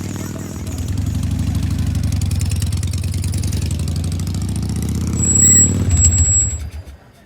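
A motorcycle engine runs steadily at close range with a low, throbbing rumble, swelling briefly near the end before dying away, while faint voices sit underneath.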